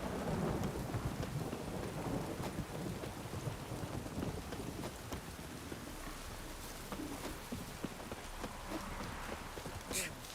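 A steady downpour patters in The Witcher 3, with low rolling thunder rumbling beneath and a few sharper cracks toward the end. Wind gusts and a voice are faintly present beneath the rain.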